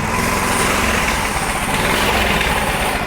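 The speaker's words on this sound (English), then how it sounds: "So let's go ahead, give her some gas, get that back tire moving." A small pull-start motorcycle engine runs steadily under throttle to spin the back tire, a loud, close, rough buzzing drone without pauses or talk.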